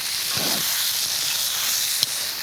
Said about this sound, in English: If I hear that nice sizzle